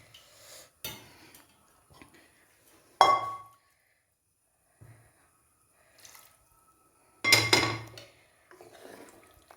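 Rinsing a metal cooking pot and pouring the water into a simmering fish curry: sparse clinks of pot and utensil, splashy bursts of pouring and dripping water, separated by quiet gaps.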